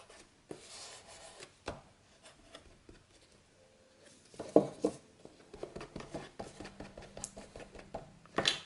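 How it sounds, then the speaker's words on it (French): Paper edges are inked for a scrapbooked hat box, heard as soft, close rubbing and dabbing strokes, irregular and quiet, with a few light taps and no speech. "On va ancrer les bords."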